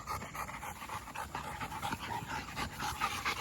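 A muscular puppy pants quickly and rhythmically up close, a steady stream of breathy huffs with no talking over it.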